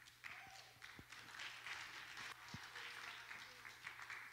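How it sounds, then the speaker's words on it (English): A church congregation claps to welcome a speaker, sustained applause with a few sharp louder claps and thumps, fairly faint and distant, running about four seconds. "Let us clap and welcome him."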